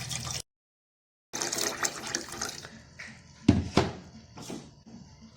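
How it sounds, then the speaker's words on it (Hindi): Water pours and splashes into a pot of washed lentils in uneven gushes, with a few louder sloshing bursts near the end, close by and without speech. "अब मैंने इसमें पानी डालना है।"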